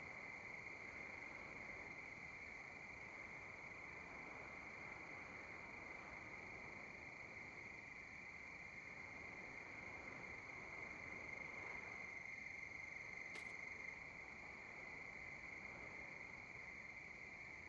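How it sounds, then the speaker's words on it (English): In Farming Simulator 19 at night, crickets chirp in a steady, continuous high trill over faint background hiss for the full stretch, unbroken by voices, with a brief click partway through. "We got cricket sounds at night."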